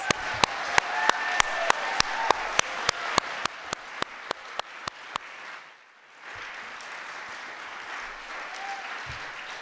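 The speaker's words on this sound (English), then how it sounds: "Let's give them a big round of applause." At an awards ceremony, clapping rings out in a sharp, evenly spaced beat, about twenty regular claps over five seconds that fade slightly, followed by a brief hush and a low murmur of room noise.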